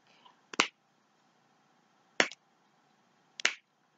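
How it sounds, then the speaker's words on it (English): Three crisp finger snaps, sharp and isolated, spaced unevenly over a few seconds in an otherwise quiet room, with no talking. "I just felt like snapping my fingers."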